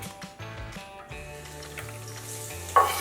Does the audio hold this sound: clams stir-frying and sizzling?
yes